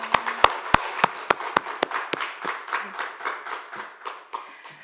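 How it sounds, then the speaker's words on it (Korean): Clapping from a church congregation starts with a few sharp, separate claps in near-unison, then settles into a softer, quicker patter of scattered hands that gradually thins out. "성령 하나님께 우리 영광의 박수 올려드릴까요?"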